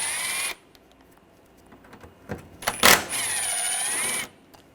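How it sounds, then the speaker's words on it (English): A power tool with a T30 socket whirs while backing out a screw during timing belt work on a 2004-2009 Audi A4. It comes as two close, loud bursts of whining spin with a few clicks and knocks in the quiet gap between. "Using a T30 socket, take this screw out."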